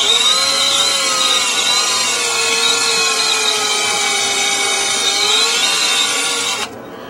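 A small power drill with a tiny bit whirs steadily and loudly at close range for several seconds, drilling into a guitar fretboard, then cuts off abruptly near the end.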